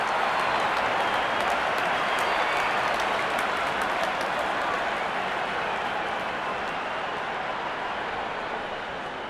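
Steady, loud crowd applause and cheering from the stadium audience in the cricket video game Real Cricket 18 after a six, a dense unbroken roar lasting throughout and tapering slightly at the end.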